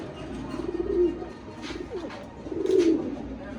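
Pigeons at a pigeon farm give a couple of low, soft cooing calls over a murmuring background, moderately close and fairly quiet.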